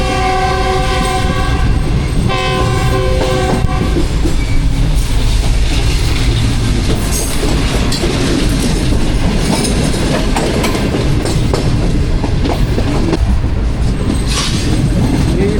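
The Pak Business Express runs loudly through Renala Khurd station on the Karachi to Lahore line, its horn sounding in bursts early on over constant rumbling and clattering wheels.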